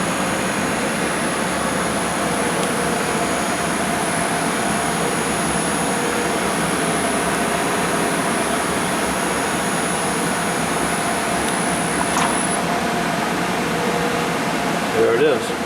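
Kellenberger 600U universal cylindrical grinder running: a steady, dense mechanical hum and whine holds throughout at an even level, with a brief knock near the end.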